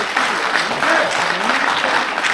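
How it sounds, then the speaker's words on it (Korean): Audience applause at a book launch event, a steady dense wash of clapping from a sizable crowd filling the whole stretch at even loudness, with a faint voice underneath. "박수 한번 부탁드립니다."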